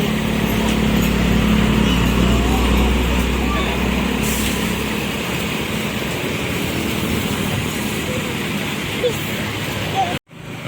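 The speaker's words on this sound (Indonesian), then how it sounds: "Sempati Star busnya keluar tuh kayaknya" Sempati Star bus pulls out of the Rosalia Indah depot with a deep, steady diesel rumble and broad roar close by, fading somewhat before a short abrupt break near the end.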